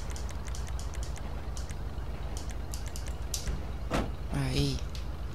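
Car doors on a pink Albany Buccaneer lowrider in GTA V closing, a soft thud and a short creaky squeal near the end under a steady low engine and game hum, with someone talking throughout.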